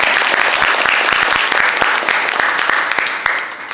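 An audience at a history talk concert claps to welcome a professor, dense sustained applause with sharp individual claps standing out, loud and close, gradually easing toward the end.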